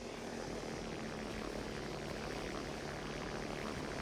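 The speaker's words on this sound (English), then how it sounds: "But right now we're going to wait for that drone to come down." A cargo drone in the video game Off The Grid descends with a steady, droning propeller-like engine hum, constant and fairly faint, with no one speaking.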